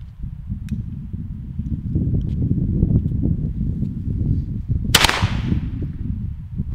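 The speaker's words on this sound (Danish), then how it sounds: "Nu prøver vi lige at tænde en gang, og så kan man prøve at se, hvor hurtigt sådan en lunte egentlig brænder." A lit firework fuse sputters and hisses close by with a low rumbling crackle, then a single sharp firecracker bang rings out near the end and decays quickly, followed by more hissing.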